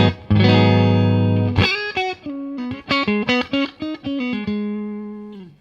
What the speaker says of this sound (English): Here's my clean sound. I'm running through my Fender Deluxe Reverb and I'm on the neck pickup of my Strat.